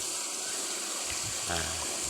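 Village tap water running in rural Thailand, a steady splashing flow with a gurgling surge midway, heard close and fairly loud throughout.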